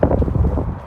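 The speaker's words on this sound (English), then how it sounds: "Back in the wind." Wind blows outdoors at a historic fort site, buffeting the microphone in loud, low, uneven gusts for about a second, with no talk.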